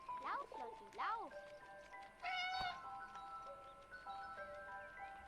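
Cat in the video game 11-11 Memories Retold, meowing several times in quick succession, loud and close, with a longer drawn-out cry in the middle and faint game ambience beneath.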